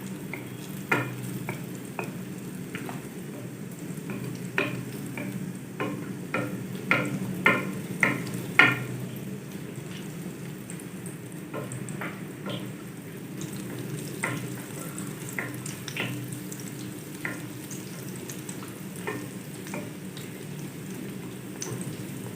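Naan shallow-frying in a pan of oil as a spoon ladles oil over it: a steady close sizzle broken by sharp spoon clicks and scrapes, busiest in the first half and sparser later.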